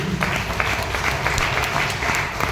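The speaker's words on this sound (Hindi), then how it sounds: "प्रबल सर के लिए जोरदार ताली होना चाहिए" A seminar crowd claps loudly and continuously for a speaker, a thick even wash of applause lasting a couple of seconds.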